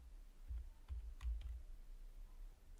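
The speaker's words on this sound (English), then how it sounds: "So I'm going to type ul." Quiet keys tapped on a computer keyboard, a handful of soft separate clicks over about two seconds in a still room.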